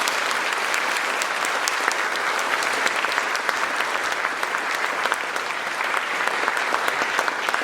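At a college awards ceremony for academic excellence and community engagement, an audience gives students a steady, even round of applause that continues without a break.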